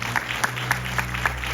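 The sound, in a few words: church congregation applause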